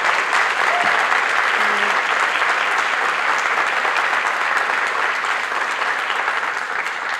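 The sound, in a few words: audience applause for students at honors ceremony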